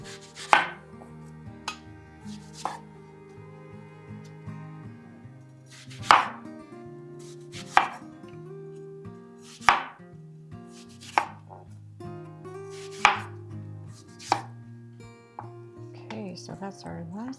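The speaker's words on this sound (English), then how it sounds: "we're gonna grab these apples and we're gonna start slicing them" A knife slices through apples onto a cutting board in a sequence of sharp, irregular chops with brief pauses between strokes, close and crisp in a quiet kitchen.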